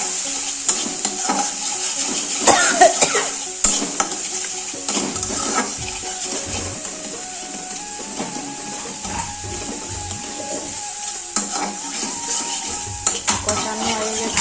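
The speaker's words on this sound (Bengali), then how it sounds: "দিয়ে দিলাম মশলাটাকে একটু কষিয়ে নেবো" Ground cumin, coriander, turmeric and salt are stirred and sautéed in a pan for a potato fish curry, giving a steady close sizzle with scraping spoon strokes and occasional clinks of utensils against the pot, with no talking.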